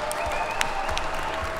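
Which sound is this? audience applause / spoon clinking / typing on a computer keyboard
audience applause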